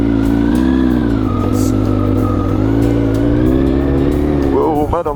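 Car driving on a dirt road with mud on its tyres, a loud, close steady engine drone with shifting pitch that rises at the end, with a voice briefly over it.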